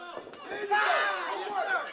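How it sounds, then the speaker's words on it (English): Boxing crowd at a fight night cheering and calling out with growing excitement, a steady roar of many voices with rising shouts and whistles, close and fairly loud throughout. "Crowd trying to get into this one, and they are."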